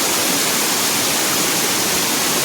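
Rani Duduma waterfall near Damanjodi pours in a steady, loud, broadband roar of falling water, constant and close with no pauses or voices.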